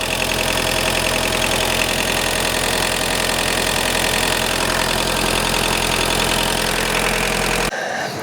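MK2 Golf GTD diesel engine idling after injector cleaning, a loud continuous rattling clatter with a steady rhythmic knock, close up and uninterrupted until it cuts out near the end.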